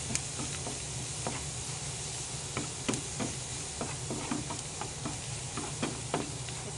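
Butter sizzling steadily in a pan for buttered garlic chicken wings, a continuous close hiss dotted with sharp little pops and crackles throughout.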